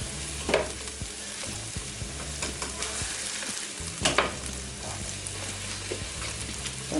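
Frozen meat sizzles and fries steadily in a frying pan, with occasional scraping and stirring clicks against the pan and no talking.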